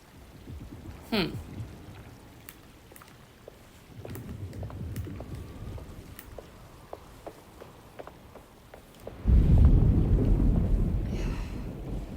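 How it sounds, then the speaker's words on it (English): Thunder from an approaching storm in the Alone in the Dark video game, a deep rumbling roll rising loudly near the end over gusty wind and scattered clicks, with a brief earlier rumble. "Looks like a storm's coming."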